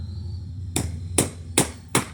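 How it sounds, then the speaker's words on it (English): Four sharp hammer strikes drive a screw through house siding close by, spaced roughly evenly in a quick series over a low background hum. "hammer the screw in through the siding."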